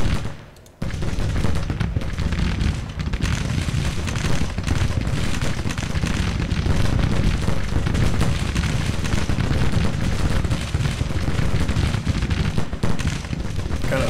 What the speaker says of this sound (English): The rate of fire of these Burnside carbines make short work of this guy.